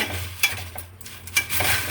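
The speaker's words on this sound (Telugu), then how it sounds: "తరువాత అందులో శనక్కాయలు వేసాను. అది ఇది కలిపి వేయిస్తున్నాను." Peanuts stir-roasted in a pan, with a few quick scraping strokes of a spatula against the metal over a faint low hum, close and fairly quiet.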